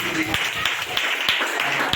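A church congregation claps during a fasting prayer service, a dense, steady patter of many hands with sharper individual claps standing out, close and continuous under ongoing talk.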